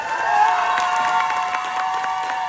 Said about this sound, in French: Donc on peut vous applaudir, hein, vous pouvez vous applaudir en fait.